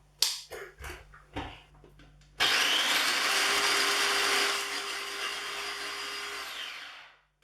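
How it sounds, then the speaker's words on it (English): An electric food processor whizzes fresh chillies into tiny chunks, starting abruptly after a few clattering knocks and then running as a loud, steady whirring roar for about five seconds before it stops. "So now they're in the food processor, quite simple, whiz it up."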